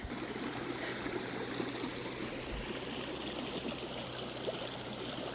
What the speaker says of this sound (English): We're just walking up the creek right now. It is flowing pretty good.